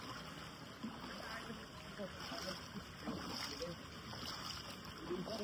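Flood water at high tide in Navotas sloshes and splashes steadily around someone wading through it, mid-distance, with a voice heard faintly at times.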